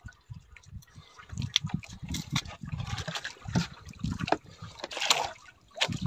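Water trickles and splashes through a large hole into a wooden fishing boat (bangka) holed by a big fish, a steady irregular dribbling close by with knocks and sloshing, no talk.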